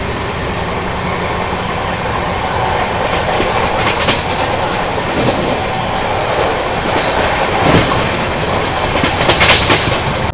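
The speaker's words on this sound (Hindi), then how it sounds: "अभी अपनी ट्रेन ने स्किप किया तिवंडी रेलवे स्टेशन।" An LHB-coach superfast express between Mumbai LTT and Banaras runs non-stop at speed through a 130 km/h section, its steady loud rail roar layered with rhythmic wheel clatter and brief metallic hiss, with no talking.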